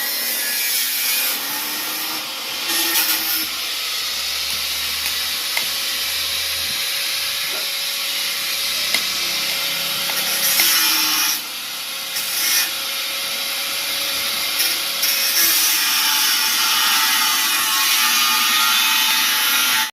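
Wooden roof rafters on a house roof renovation are cut level with a saw, giving a loud, continuous rasping, hissing cut with brief pauses and shifts throughout.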